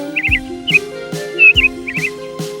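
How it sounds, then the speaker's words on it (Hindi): Bird chirps and short tweeting calls from an animated fairy-tale scene, a few quick bursts spaced through the clip over a soft music bed, with no talking. "जब चिड़िया हवा में उड़ गई तो कॉन्स्टेंटिया मुस्कुराई।"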